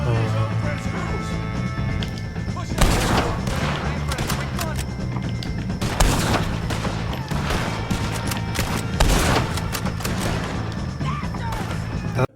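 Rapid gunfire crackles through a Red Dead Redemption 2 shootout with O'Driscoll gang members, loud repeated shots and impacts in dense bursts, with a game character's voice and rough background din mixed underneath.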